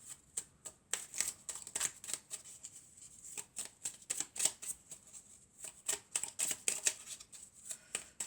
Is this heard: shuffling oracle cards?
yes